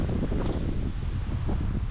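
Wind gusting across an open valley in Sweden's Sarek National Park under cloudy skies, a steady loud broadband rush buffeting the microphone with no pauses.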